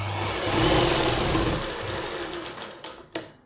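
A sewing machine runs a long, thick stitch along palazzo pant lining, whirring continuously and close before slowing and stopping with a couple of final clicks.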